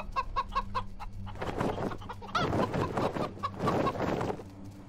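Chickens in the video game Wasteland 3 cluck loudly and close by, starting with a quick series of sharp clucks, then a dense, busy stretch of overlapping clucking from several birds.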